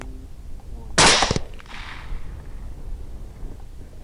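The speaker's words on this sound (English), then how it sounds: "2 shots and 2 hits, and the boar goes right down." A 6.5 Grendel rifle fires during a night hog hunt, giving a loud sharp crack with a quick second report close behind, then a fading echo and a quiet outdoor background.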